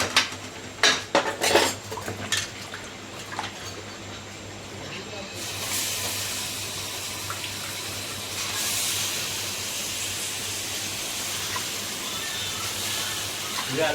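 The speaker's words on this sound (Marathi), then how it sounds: "कांदा बी एकदम गोल्डन झाले, मसाला टाकलं ते मिक्स वगैरे." Masala with golden-fried onions stirred in a pan at a village dhaba, metal spoon clattering and scraping in quick bursts, then a steady sizzling hiss takes over.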